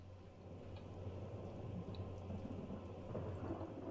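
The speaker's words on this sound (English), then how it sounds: "Oh, there's lightning going on out there." Thunder rumbles low and steady during a lightning storm in the video game Slender: The Arrival, with rain hissing over a constant dull drone and no speech.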